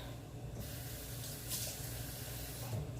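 Steady hiss of running tap water as a cup is rinsed at a kitchen sink, close and continuous for a few seconds with a slight rise near the end, no talk.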